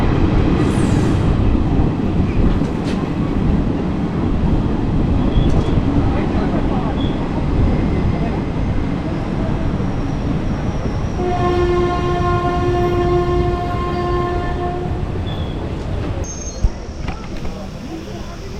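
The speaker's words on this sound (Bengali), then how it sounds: "এই মুহূর্তে আমরা ধীরে ধীরে মানকর স্টেশনে প্রবেশ করছি।" Howrah–Suri Hool Superfast Express rolling slowly into Mankar railway station, with loud continuous wheel and carriage rumble and a sustained horn blast partway through, heard from on board.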